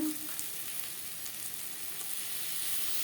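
Onion and tomato fry in a pan for a fish curry with potato, giving a steady, soft sizzle that holds evenly throughout without any talk.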